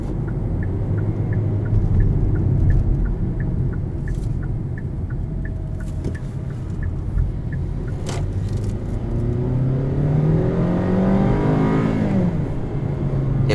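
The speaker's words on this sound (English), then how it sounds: "Even activating kick down, which I personally like." A 2018 Hyundai Sonata SE accelerating hard with kickdown, heard from inside the cabin: a steady engine drone under road rumble that climbs in pitch and volume toward the end, with a shift-like break near the close.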